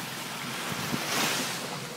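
Sea waves washing on the shore at night on Koh Samui, a steady loud surf roar mixed with wind noise on the microphone and no speech.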